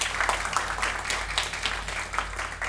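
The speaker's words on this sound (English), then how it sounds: "I want you to join me to give a big applause to the Yo-man Kim for this moment." Audience applause at a seminar session, a steady patter of many hands clapping at moderate distance that fills the short stretch without a break.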